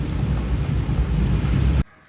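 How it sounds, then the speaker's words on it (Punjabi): Heavy rain pours down during a downpour in Hoshiarpur, a loud, dense, continuous roar with wind-like rumble that cuts off abruptly near the end. "ਆ ਲੋ ਤਾਂ ਮੀਂਹ ਫੇਰ ਤੇਜ਼ ਹੋ ਗਿਆ"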